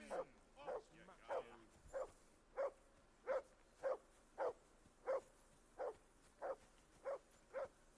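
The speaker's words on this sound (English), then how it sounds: "Jesus, Henry, that barking's driving me nuts." A dog in a video game barks repeatedly in a steady rhythm, about two barks per second, fairly distant and clear, with no talking.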